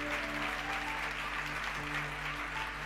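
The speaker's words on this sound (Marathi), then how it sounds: "That's why I give a mighty clap to Jesus." A church congregation clapping for Jesus, a steady wash of applause held for about three seconds over a low constant hum, moderately loud with no voice on top.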